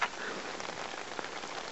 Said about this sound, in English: so it's rained pretty good all day